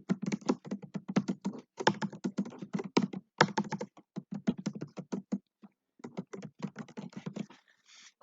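Rapid keyboard typing on a computer while entering text into Notepad, a dense run of close, crisp keystrokes in bursts with brief pauses, no voices.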